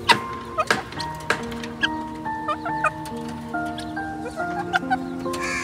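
A desi hen on a rooftop clucks repeatedly in close, rhythmic bursts, with a few sharper calls and steady cackling throughout, no talk.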